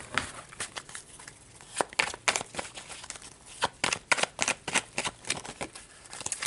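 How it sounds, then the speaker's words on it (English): Tarot cards shuffled by hand, quick crisp riffles and soft slaps in uneven bursts, close and fairly quiet with no talk. "I just want to shuffle really good to make sure I get all just Virgo vibes"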